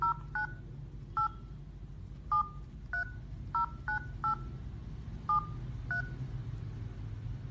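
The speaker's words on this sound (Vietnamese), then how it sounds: "nhấn gọi cho chiếc điện thoại này" A Masstel Spinner Bluetooth phone keypad dials out with about ten short, crisp DTMF beeps in an irregular rhythm, each sharp and close, over a faint low hum.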